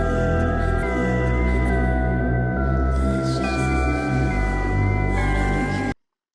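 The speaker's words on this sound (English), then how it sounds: "This odd UFO sound." Eerie, wavering synth tones float over a thick, sustained musical bed in a song, giving a spacey, otherworldly UFO-like effect that plays steadily without any voices.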